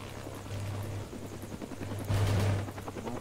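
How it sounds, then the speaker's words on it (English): A helicopter in a video game thrums as a steady low rotor pulse, loud and close, swelling briefly near the end amid faint game noise. "There's a helicopter."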